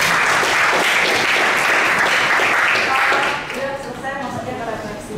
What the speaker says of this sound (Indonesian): beri tepuk tangan buat kedua kelompok